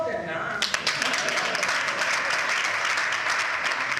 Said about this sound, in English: Applaud them now.